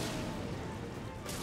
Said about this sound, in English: Oh my god. Grenade.